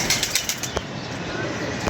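Flock of pigeons flying overhead above a rooftop, a steady rushing flutter of many wings with rapid soft flaps, fairly close and continuous, with faint talk in the background.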